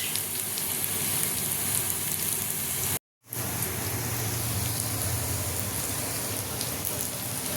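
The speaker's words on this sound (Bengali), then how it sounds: "আর এখানে বসছে করলা আলু ভাজা" Bitter gourd and potato fry in a home kitchen with a continuous dense, rain-like sizzle, loud and close, broken once by a brief total silence before carrying on.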